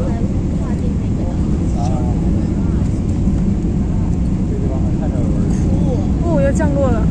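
Airliner engine drone during the descent to land at Urumqi, China, a steady loud cabin roar holding throughout while people talk over it.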